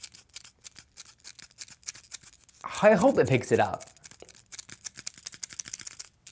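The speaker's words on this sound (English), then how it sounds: "the loudest squeaking pair of sunglasses that I've ever reviewed in a video" Rapid, dense squeaks and scratchy creaks from Ray-Ban RB 4428 sunglasses repeat close by, with a brief spoken remark in the middle.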